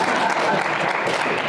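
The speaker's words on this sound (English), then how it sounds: "I'm going to assume you were applauding me" A conference audience applauds a speaker, a dense continuous wash of clapping from many hands, loud and close, brief and unbroken.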